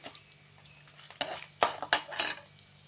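A spoon stirs chana dal, coriander seeds, cumin and chilies in a pan, with a few sharp scraping clinks against the metal over a faint background, no speech.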